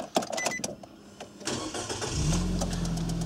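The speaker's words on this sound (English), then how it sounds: "What I'll do now is I'll start the engine." A 2005 Nissan Note engine cranks briefly and fires up, settling into a steady, close idle hum that carries on to the end with no talking.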